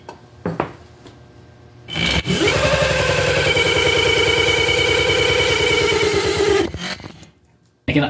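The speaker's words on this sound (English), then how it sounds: "this is the first time I've ever done a burnout on my workbench" A tiny electric bike's rear tire spins against a workbench in a burnout, a loud sustained whining, rubbing roar lasting several seconds before cutting off, with brief clatter around it.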